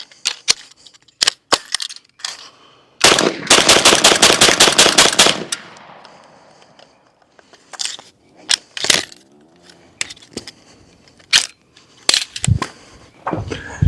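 A BINTAC T9 semi-auto 9mm airgun fires pellets from belt-fed magazines: scattered single loud shots, then a fast rapid-fire burst of about two seconds, followed by more spaced sharp shots, close and alone.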